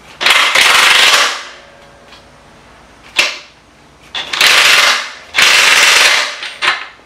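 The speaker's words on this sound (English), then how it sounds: "Alright, we're gonna tighten up that rear wheel." A ratchet tightening the rear wheel axle of a Yamaha YZF-R1 motorcycle during a chain and sprocket job: several quick, close, loud ratcheting bursts separated by short pauses and single sharp clicks.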